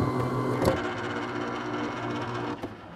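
An Impossible 8x10 film processor pulls instant film through its rollers, a steady whirring mechanical drone with a faint pulsing texture and one brief thump partway through, loud and continuous.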